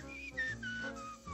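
A wavering whistled tune drifts through several falling notes, fairly quiet and alone, with soft background hum underneath.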